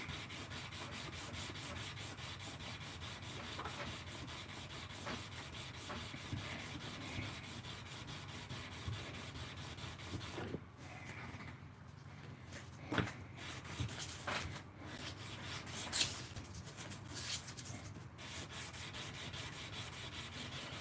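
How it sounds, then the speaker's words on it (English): Sandpaper rubbed backwards and forwards on a flat surface, a steady scratchy rasp that runs continuously, then breaks into shorter uneven strokes with a few louder scrapes near the end. "Hold the sandpaper in place. You can tape it down if you want to. I don't bother. I just hold it down. And then run it backwards and forwards."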